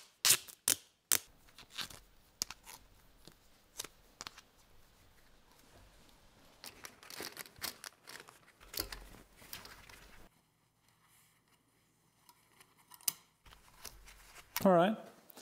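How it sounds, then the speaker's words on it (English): Tape being torn and pressed onto the sides of a tractor scraper blade, heard as close, crackly rips and sticky pulls in irregular bursts, with quieter stretches between them. "let's put some tape on each side just to make it fit a little bit better"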